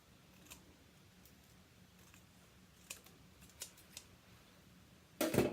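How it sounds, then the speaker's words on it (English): Quiet snips of scissors cutting paper along a score line, a few soft clicks followed by a louder, crisp cut at the end. "take my scissors, and using that score line that's been created for me is just simply cut this"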